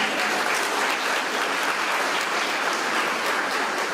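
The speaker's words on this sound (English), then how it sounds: "Would you please join me in applauding our musicians for this evening?" Guests at a donors' appreciation reception applaud a university jazz combo with a thick, continuous roar of clapping, loud and uniform from start to finish.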